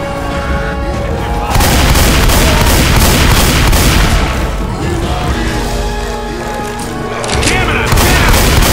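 Continuous loud booming and crashing from a grenade explosion in the video game Left 4 Dead 2, dense and sustained over chaotic gunfire-like noise with no clear talk.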